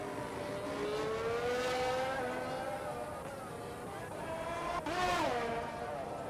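Race cars on a hot lap in an F1 video game at Bahrain, a steady high engine whine with rising and falling pitch as cars shift gears and pass, with faint commentary underneath.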